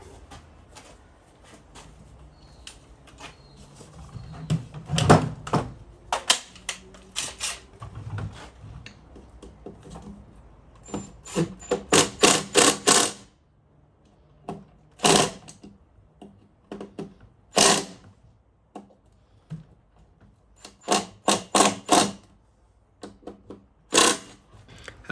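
Power tool driving Torx bolts tight on the flywheel area of a Stihl BG86/BG56 leaf blower, with repeated short bursts of whirring and ratcheting clicks, some in quick clusters, loud and close with pauses between.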